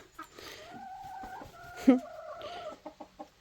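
Several hens cluck in short, irregular bursts, with one sharper squawk partway through and a few quick clucks near the end.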